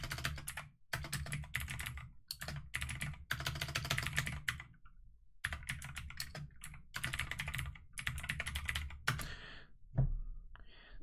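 Someone types commands to create a React app on a computer keyboard, with rapid clattering bursts of keystrokes separated by short pauses, close and clear, ending with a soft thunk and a brief sigh.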